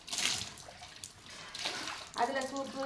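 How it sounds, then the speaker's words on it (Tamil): Clothes are rinsed by hand in a tub of water, giving bursts of sloshing and splashing with softer trickling between them, close by and fairly quiet. "இப்படி தான் நம்ம துணி அலாசணுங்க"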